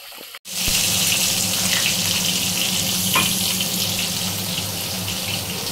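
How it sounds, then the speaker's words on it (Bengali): Luchi, a puffed flatbread, deep-frying in hot oil: a loud, steady, close-up hiss that starts abruptly and runs unbroken, with no voices. "এদিকে লুচি ভাজা চলছে।"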